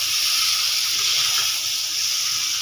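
Hot water pours steadily into a cooking pan with potato and egg, a continuous loud hissing splash that fills the whole moment without talk.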